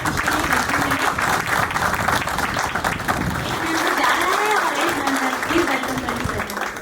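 Audience at a retirement ceremony clapping steadily for a doctor being introduced, a sustained wash of many hands with voices and chatter underneath throughout.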